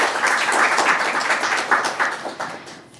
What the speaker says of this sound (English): Let's give him an extra loud round of applause.